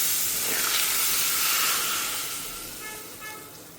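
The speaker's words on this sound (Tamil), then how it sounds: "நல்லா பொரிய ஆரம்பிச்சுடுத்து. நம்ம இப்போ ரசத்தில் குத்திடலாம்" A spice tempering spluttering in hot oil as it is poured into a Madhva-style plain rasam (thili saaru) made without tomatoes. A loud, steady hissing sizzle fades gradually toward the end.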